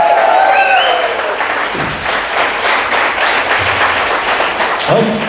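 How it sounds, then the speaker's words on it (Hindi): A church congregation breaks into loud, sustained applause with scattered cheering and shouts, a dense patter of many hands filling the room, with a voice calling out near the start and end. "एक अच्छी ताली प्रभु के लिए जोर से चिल्लाते हुए"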